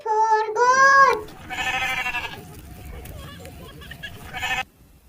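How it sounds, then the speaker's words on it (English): A goat gives two short loud bleats close up, and then a voice speaks over quieter background. "G for goat."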